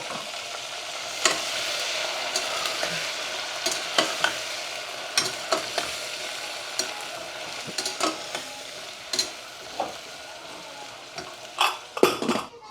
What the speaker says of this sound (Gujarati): ચાલો તો ગવાર અને સાથે સાથે સિંગ પણ નાખી દઈએ એટલે સિંગ પણ તેની સાથે કૂક થઈ જાય